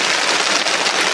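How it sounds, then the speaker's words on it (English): Rain falls steadily on no-dig garden beds, a close, even, loud hiss of drops with no pauses and no voices. "I'll let it rain on them for a bit"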